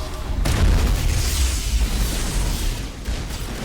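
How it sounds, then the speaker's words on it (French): A loud, deep explosion in the video game Mass Effect, a heavy booming burst followed by rumbling debris and a lingering roar that slowly fades, heard up close with no talking. "ils ont explosé le machin"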